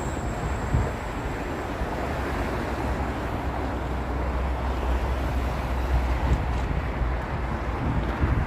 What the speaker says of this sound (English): I can hear a subway train passing underneath the bridge. The whole thing rumbles.